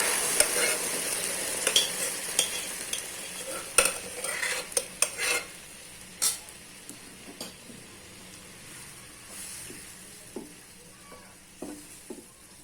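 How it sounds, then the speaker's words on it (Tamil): Cooked basmati rice frying in ghee and being stirred in a pan, with steady soft sizzling broken by repeated scraping and clinking of the spoon against the pan, close up and free of talk. "இந்த நெய்யிலே ஒரு 5 நிமிஷம் வேகட்டும்."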